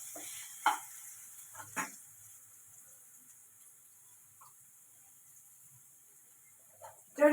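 Potatoes with cabbage, chillies and grated raw mango cooking in a pan, a faint steady sizzle with a few spoon stirs and knocks against the pan.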